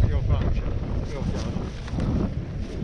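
Strong gusting wind buffets the microphone on a ski slope at Rusutsu, a low roaring rumble that fills the short stretch while a voice speaks faintly underneath.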